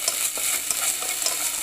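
Onions fry with ginger garlic paste in a pan while being stirred, a close crackling sizzle broken by quick scraping strokes of a spoon, with no talking.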